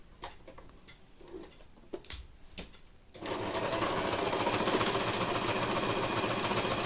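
A sewing machine stitches the four sides of a child's double-compartment school pencil case. A steady, dense, close mechanical whir runs continuously after a quieter stretch of faint handling noises.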